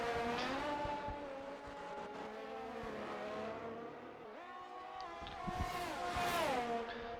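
F1 23 race cars at the Imola Grand Prix brake toward a chicane, engines whining in rising and falling tones as they downshift and rev, steady and fairly quiet.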